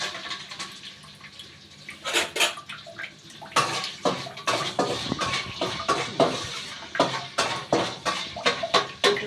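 Semai being stirred in a cooking pot in a home kitchen, with a ladle scraping and knocking against the metal in uneven clusters of clinks and scrapes, close and moderately loud, over a quiet background.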